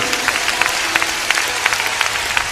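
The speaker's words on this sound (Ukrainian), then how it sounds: "Поприветствуйте их, пожалуйста, аплодисментами." An audience at a political gathering in Kyiv applauds to welcome city council members, moderate scattered clapping with distinct individual claps standing out over a crowd backdrop.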